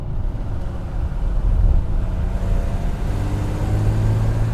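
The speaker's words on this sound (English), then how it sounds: "the engine is pulling cleanly from low revs" A BMW M1 engine drones low and steady with wind rush over the microphone, the rumble gradually building as it pulls cleanly from low revs.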